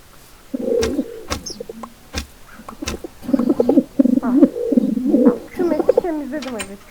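Minecraft pigeons cooing in low, throaty warbles, several calls in a row with a few sharp taps and faint voices around them.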